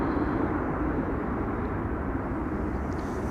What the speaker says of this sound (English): KLM flight 592 coming in, 777-200.